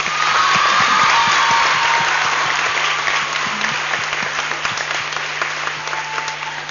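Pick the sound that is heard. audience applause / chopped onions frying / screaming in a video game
audience applause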